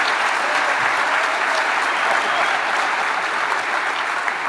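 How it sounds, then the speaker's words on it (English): A large audience at the DEF CON hacking conference applauds first-time speakers, sustained loud dense clapping filling the room evenly from start to finish, with no speech over it. "so give them a big round of applause."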